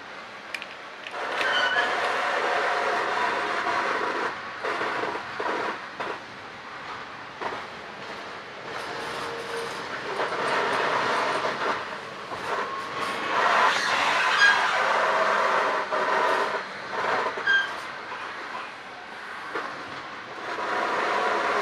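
A commuter train runs steadily on its rails, a continuous broadband rumble and hiss with shifting rattles and brief squeals, heard close from inside the carriage with no talking.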